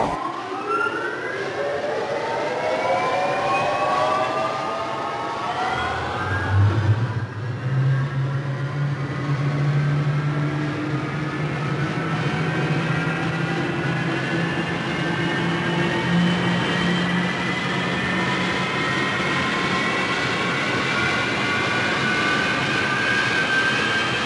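A turbine engine spools up with a rising whine that climbs steadily in pitch, joined by a deep low drone, building into a loud continuous roar.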